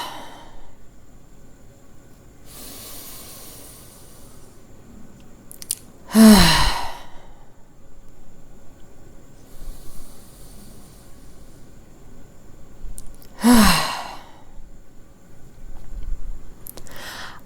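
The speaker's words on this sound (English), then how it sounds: "So let's take 3 full deep breaths." Full deep breaths taken during a calm breathing exercise, two pronounced sighing exhales standing out against quiet, faint room sound with softer breaths between them.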